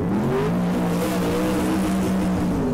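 Sprintcar engine rumbling steadily as it rolls out onto the Cairns Speedway racetrack, a continuous loud low drone with slight pitch wavering and no other voices.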